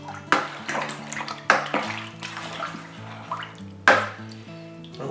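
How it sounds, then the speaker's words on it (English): Liquid swishes and splashes as ingredients are gently stirred into homemade elderflower wine, with a few sharper sloshing strokes over steady tonal background music. "give it a gentle stir in to mix it in"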